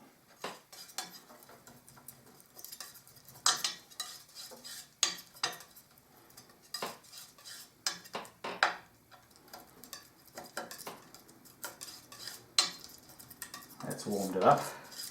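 Palette knife scraping and tapping on an oil-paint mixing palette as scarlet is worked into an earthy green, a run of light clicks and scrapes in an irregular rhythm, close and fairly quiet, with brief talk in places.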